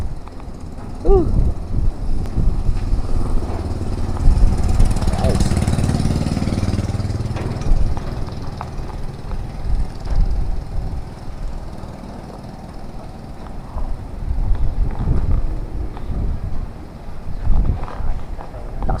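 Strong typhoon winds roar and howl around a house during Typhoon Kristine, a loud, continuous rushing with gusts swelling and easing, while a person talks and laughs over it.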